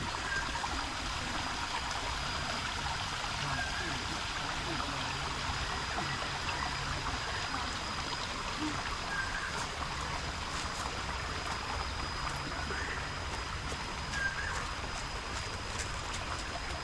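Waterfall at a forest temple in Laos, heard as steady broadband rushing water that stays loud and constant throughout, with no talk over it.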